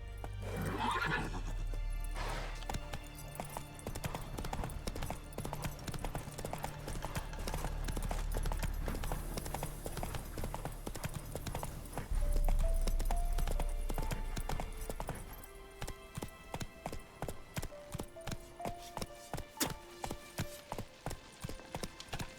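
Horse hooves clip-clop at a steady trotting rhythm in The Witcher 3, with a whinny near the start and game music running underneath, loud and close throughout.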